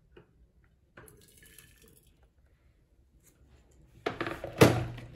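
Water poured into a teapot, heard as a short, close splash and trickle of liquid near the end, after a quiet stretch with a few faint thunks and clinks.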